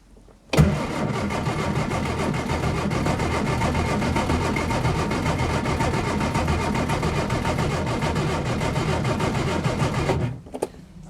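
A car engine cranks steadily on the starter for about ten seconds, loud and close, with a fast even churn that never catches. It then cuts off abruptly into quiet.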